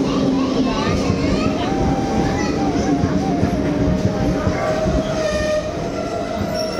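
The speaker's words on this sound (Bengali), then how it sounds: "ট্রেন চলে এসেছে, এবার আমরা ট্রেনে যাবো।" A train pulls into a station with a steady heavy rumble of wheels and carriages throughout, a long drawn horn-like tone running through it while voices chatter nearby.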